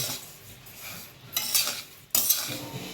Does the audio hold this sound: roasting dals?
yes